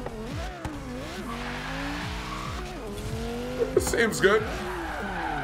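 Car engine in Forza Horizon 3 revving and shifting through gears with rising and falling pitch, tires squealing near the end, loud and close while a voice briefly speaks.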